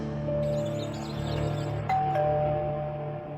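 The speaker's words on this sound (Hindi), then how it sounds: "अगले ही पल फिर से डोरबेल की आवाज आई।" A doorbell chimes indoors, a steady two-tone ding-dong ringing out clearly over a low background hum, with a second chime near the end.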